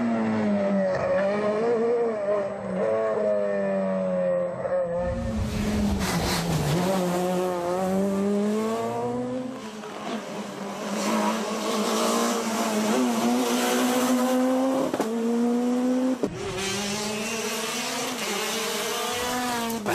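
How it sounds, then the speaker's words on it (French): Citroën DS3 R5 rally car racing on a stage of the Rallye du Var, its engine loud and close, revving and shifting up and down through gears with brief tire squeal, no talk. "Pascal Enjolras, c'est bien lui au volant de sa Citroën DS3"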